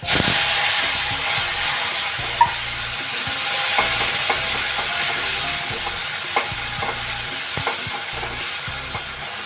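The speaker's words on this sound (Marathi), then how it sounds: "आता टमाटा चांगला तेलामध्ये परतलाय" Tomato and coriander fry in hot oil with mustard seeds, cumin and garlic, making a loud, continuous sizzle with scattered pops and spatula scrapes, close and alone with no talking.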